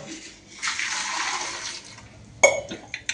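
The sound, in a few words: water poured into cooker with potatoes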